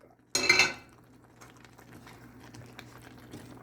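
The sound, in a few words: stirring mushrooms into gravy in a pan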